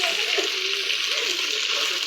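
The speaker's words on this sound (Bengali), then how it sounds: "কার্পু মাছগুলোকে খুব সুন্দরভাবে ফ্রাই করতেছি।" Carp fish frying in hot oil, giving a steady, even hiss of sizzling that holds at a constant level throughout, fairly close and with no talk over it.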